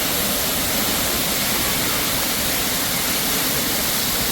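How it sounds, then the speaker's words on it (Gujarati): Lyngksiar waterfall in Meghalaya, a fall of streams, gives a loud, steady broadband roar that stays constant throughout with no voices. "તમે અહીં ઝરણા, જેને કહો ને કે ધોધ છે ઝરણાઓનો"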